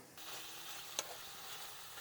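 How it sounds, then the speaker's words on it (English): Ground beef sizzles and crackles steadily in a hot pan, with a brief scrape of a utensil partway through. "I am frying up some grounded beef"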